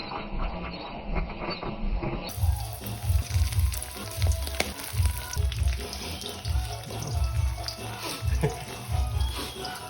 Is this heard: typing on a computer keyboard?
no